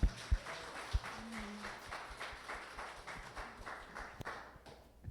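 A church congregation applauding: quiet, scattered clapping at a distance, with a few sharper taps near the start, faint and thin throughout.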